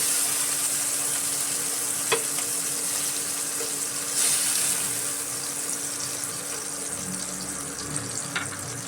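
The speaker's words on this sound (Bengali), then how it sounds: "এখানে আমাদের চিংড়ি মাছগুলো সতে করা হয়ে গেছে" Chilli garlic prawns sauté in a pan with a steady, moderate sizzle throughout, broken by a few sharp clinks of a utensil, with no talking.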